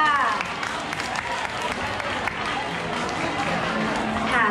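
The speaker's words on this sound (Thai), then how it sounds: "ขอเสียงปรบมือให้กับ Popular Vote ค่ะ" Crowd applause at a school Valentine's Day event as a Popular Vote winner is presented: a dense, steady wash of many hands clapping throughout, with voices mixed in.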